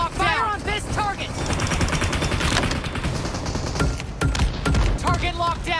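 Rapid gunfire from PUBG Mobile during a vehicle battle, dense bursts of shots running almost nonstop, loud and close, with a voice speaking over it.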